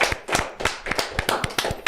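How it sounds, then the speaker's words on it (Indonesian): A few people clap in a podcast studio, a close, loud burst of sharp, slightly uneven claps over about two seconds. "Berikan tepuk tangan dong"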